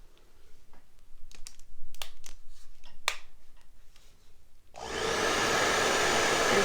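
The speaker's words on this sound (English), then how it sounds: "There's too many buttons on this blow dryer." A blow dryer used to dry a Christmas craft switches on after a run of light clicks and taps, then blows as a loud, steady whoosh that holds to the end, close by.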